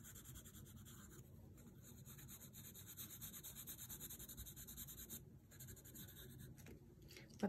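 A light green colored pencil shades close strokes on paper while drawing an avocado near its skin, making a soft, steady scratchy rubbing with faint rhythmic strokes, quiet and close.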